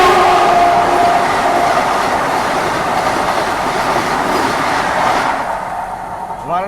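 A train runs past at an Indian railway crossing where a Vande Bharat Express is passing, giving a loud steady roar of wheels and rolling stock with rhythmic clatter, easing slightly toward the end.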